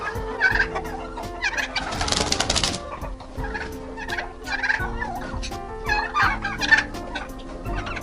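Domestic turkey toms gobble repeatedly during mating season in a busy, close chorus, with overlapping rattling calls and a brief burst of broadband noise partway through.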